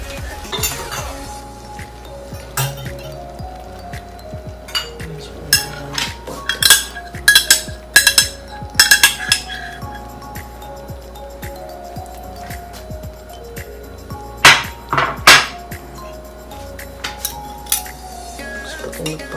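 Butter being stirred into a pot with utensils after the heat is turned off, with irregular metallic clinks and scrapes of cutlery against cookware, sharper bursts of clatter coming in clusters.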